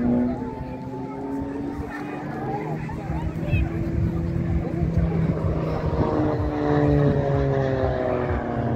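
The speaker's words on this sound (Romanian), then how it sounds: "Mai sunt aici avioane." Propeller airplane performing at an air show, its droning engine rising and falling as it manoeuvres at a distance, steady and fairly loud, with people chatting nearby over the engine noise.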